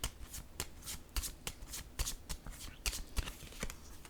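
Oracle cards being shuffled by hand, a run of crisp riffling bursts and soft slaps repeating at an uneven rhythm, close and fairly quiet with no talk over it.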